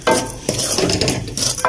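Chicken sautéing in a pan with red chilli and salt, heard as loud scraping and clinking of a metal spoon against the pan in quick bursts over a soft sizzle.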